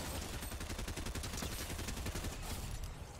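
Dense rapid-fire gunfire from the Fortnite video game, a continuous loud fusillade of overlapping shots that runs through the whole stretch without pause.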